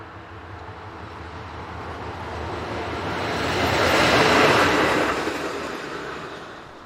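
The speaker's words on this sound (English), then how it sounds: "On its way to CZECH is this SBB Class AE66 locomotive" An SBB Class Ae 6/6 electric locomotive hauling a freight train through a station, a broad rumbling roar that swells as it draws near and peaks before fading slightly.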